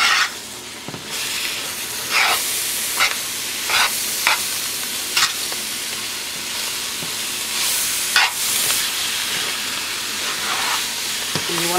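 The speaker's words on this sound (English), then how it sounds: "And we're going to stir." Roux and chopped parsley and green onions are stirred in a pot on the stove for crab and mushroom bisque, a constant close sizzle with scraping spoon strokes throughout.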